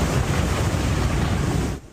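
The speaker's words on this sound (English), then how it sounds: "this house collapsing into the ocean" Ocean surf pounds the Outer Banks shore after a major winter storm, a loud, dense roar of breaking waves that cuts off abruptly near the end.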